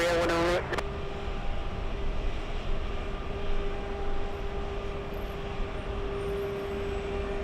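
Lufthansa airliner at LAX airport, its engines giving a steady loud roar with a sustained tone throughout, preceded by a brief burst of other noise at the very start.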